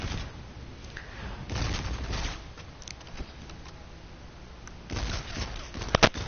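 Assault rifle fire in Call of Duty Infinite Warfare, several short automatic bursts with quieter gaps between, plus a few sharp single cracks near the end.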